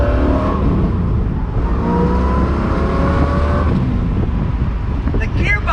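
A Chevrolet Corvette engine accelerates on throttle from inside the car, its loud revving rising steadily through the gears before easing off near the end.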